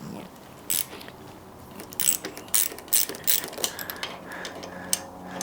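Ratchet clicks come in short bursts as handlebar bolts are loosened on a Lectric XPedition electric bike fitted with BMX bars, the pawl rattling close up between pauses over a low background hum.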